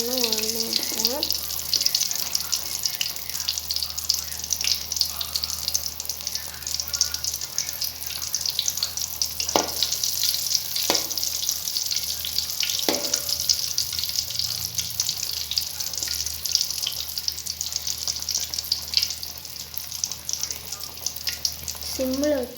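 Sweet bonda fritters frying in hot oil on low heat, a steady close hiss and crackle throughout with a few faint clicks of turning the pieces, no talk over it.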